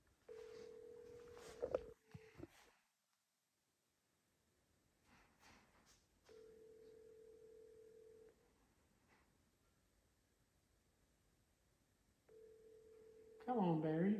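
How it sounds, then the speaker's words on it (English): Phone ringback tone repeating as a steady buzzing burst at even intervals, roughly two seconds on and four off, with breathing and soft movement between rings and a louder voice at the end. "It's ringing."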